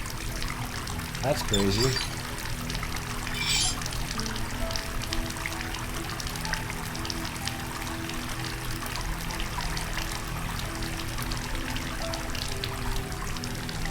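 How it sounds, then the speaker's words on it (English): Steady running water from a tap in the Asylum horror game, a continuous pouring trickle that holds loud and even throughout, with someone speaking briefly over it. "Hey, water is working."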